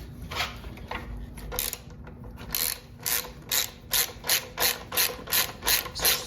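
A ratchet wrench undoing the last tail bolt on a 2021-2023 Honda CBR650R motorcycle: close, crisp clicking bursts that settle into an even rhythmic series of pawl clicks, with no talking.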